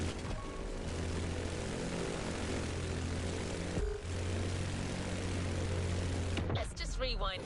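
A propeller plane drones steadily in The Crew Motorfest, a continuous mid-loud engine hum with a brief dip near the four-second mark and a sharper burst toward the end, with game audio layered over it.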